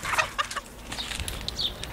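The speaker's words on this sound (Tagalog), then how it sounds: "Ayun yung manok ko." A chicken clucks in a quick run of short, close calls, with a few sharper high squawks in the last second, on an outdoor yard with no talking.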